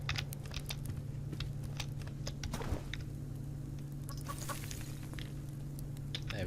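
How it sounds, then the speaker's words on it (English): Chickens cluck inside a coop in the survival game Subsistence, a steady clucking chorus over a constant low hum, with a few sharp clicks scattered through it. "there is 4 chickens in there"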